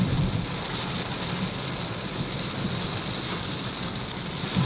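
Steady, heavy rain pours down and patters on surfaces, a constant close wash of noise with a low rumble beneath.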